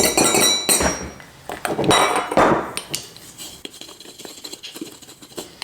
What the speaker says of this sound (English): I'm just gonna take my little bamboo spoon and give it a shimmy.